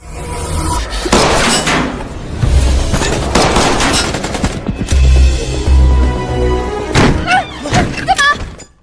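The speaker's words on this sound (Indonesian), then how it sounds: "hingga terjadilah baku tembak" Gunfire in a film shootout between a young man and mafia members, bursts of rapid shots and heavy impacts mixed with dramatic music and effects, loud and close over about nine seconds.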